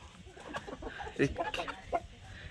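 Large native chickens and roosters cluck in short, irregular bursts close by, with a person talking over them the whole time.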